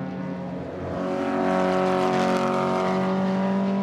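A Maserati T61 sports racing car from 1959–61, 600 kg with over 250 bhp, runs on the Hungaroring circuit. Its engine makes a loud, steady, tonal roar that swells and holds close by, with no voices.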